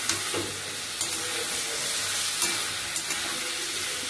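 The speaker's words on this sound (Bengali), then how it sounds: "এবার ভালো করে কষাবো।" Cauliflower curry is stir-fried in a pan, giving a steady, close sizzle of hot oil, broken by occasional clinks and scrapes of a spoon against the pan as it is stirred.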